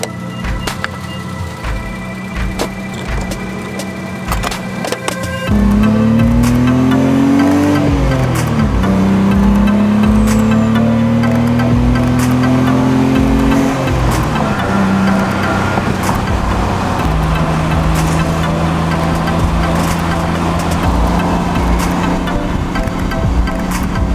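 BMW E30 driving and accelerating, engine revving up through rising pitches with gear shifts, loud and close from inside or near the car, steady road noise underneath, no talking.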